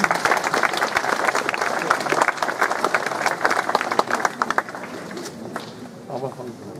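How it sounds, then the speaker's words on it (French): An audience at an outdoor medieval event in Rambervillers applauds a lady after her short speech, with lively crowd clapping that thins out toward the end, mixed with voices and movement. "On peut applaudir la dame qui vient de nous faire un beau petit speech"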